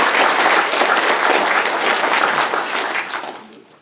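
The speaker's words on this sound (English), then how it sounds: "Y'all can clap." A talk audience bursts into dense, steady applause that fills the room, sustained for several seconds before tapering off toward the end.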